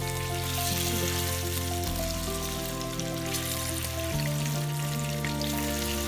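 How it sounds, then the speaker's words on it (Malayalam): Marinated fish frying in hot oil in a pan, a continuous crackling sizzle with a steady hum running underneath, heard close up and without talk. "ഒരു പാനിൽ എണ്ണ ചൂടായ ശേഷം ഈ ഫിഷ് ഒന്ന് ഫ്രൈ ചെയ്തെടുക്കണം"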